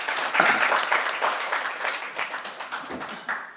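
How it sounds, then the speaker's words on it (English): An audience at a medical conference on bone marrow transplants and blood cancers applauds steadily for several seconds, a dense crowd clapping that slowly thins out. "give them a thunder applause"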